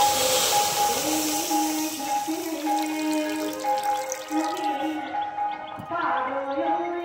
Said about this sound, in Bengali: এবার কড়ার মধ্যে জল দিয়ে দিচ্ছি।